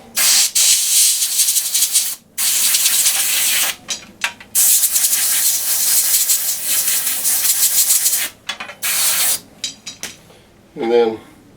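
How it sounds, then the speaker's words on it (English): Loud bursts of compressed air blown through a bathroom exhaust fan to dry it after cleaning, long hissing blasts broken by short pauses, ending with a brief mechanical rattle. "And then I'll just blow that out again, just to help it along"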